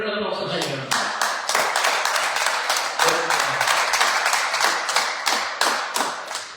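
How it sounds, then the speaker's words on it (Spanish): A church congregation claps together in steady, loud applause, many hands tapping in a continuous rhythm, with a voice briefly heard at the start. "Denle un aplauso al Señor."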